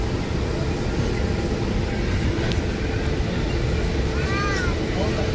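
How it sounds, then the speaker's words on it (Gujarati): Passenger train slowing down, heard from inside the carriage on a journey through Banaras station, a steady loud rumble of wheels and rattling with brief squeals near the end, under faint talk. "હવે એ ટ્રેન ધીમી પડી ગઈ"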